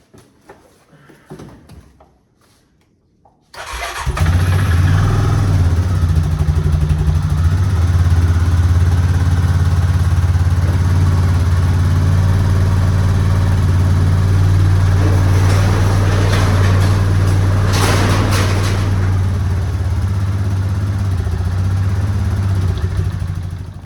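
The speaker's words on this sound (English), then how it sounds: "I'm gonna get some tools, see if that four-wheeler will start" A four-wheeler ATV engine starts in freezing winter weather: a few faint clicks, then the engine catches and runs at a loud, steady idle close by for the rest of the time.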